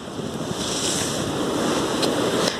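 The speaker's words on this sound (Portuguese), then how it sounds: "Olha lá, as ondas vêm gigante, rapaziada." Big waves break at Praia do Santinho beach, a broad roaring wash of surf with gusts of wind buffeting the microphone, loud and close.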